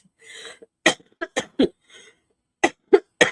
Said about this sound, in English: you're just going to have to put up with me coughing